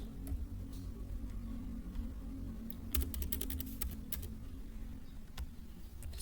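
Fast typing on a computer keyboard while entering a web address, with a steady run of light clicks and a few sharper key taps against a low background hum.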